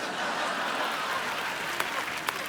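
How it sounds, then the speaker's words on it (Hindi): A studio audience at a comedy show claps steadily in a continuous wash of applause, with a couple of sharper claps standing out near the end. "अगर यही है तुम्हारा इंसाफ तो ठोको ताली।"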